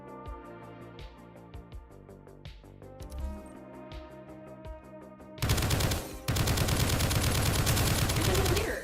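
Rapid assault rifle bursts in the indie shooter Project Onyx, loud sustained automatic fire over a game soundtrack, starting after a few quieter musical seconds and briefly breaking before resuming.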